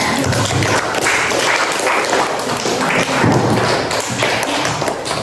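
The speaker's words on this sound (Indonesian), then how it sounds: "Ya, tepuk tangan dulu" Children in a classroom clap together, a dense, loud patter of uneven hand claps and taps that keeps going for several seconds without pause.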